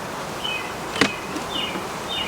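Honeybees around a hive box being set up as a queen-rearing cell builder give off a faint, steady buzz with thin whining tones drifting in and out, plus one sharp tap near the middle.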